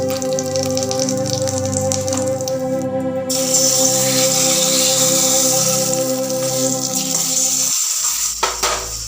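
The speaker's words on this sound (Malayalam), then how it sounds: "കടുക്, ചുവന്നമുളക്, കരിവേപ്പിലെല്ലാം ഇട്ട് ഒന്ന് വറുത്തിട്ട് പൊട്ടി നമുക്ക് വാങ്ങി വയ്ക്കാം." Hot oil sizzles and crackles steadily, with mustard seeds, dried red chilies and curry leaves spluttering over a persistent hum that cuts off abruptly near the end.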